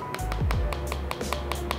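A few light knocks land on the polycarbonate back of a Samsung A22 5G phone, giving sharp, hollow taps in an irregular cluster, close and clear.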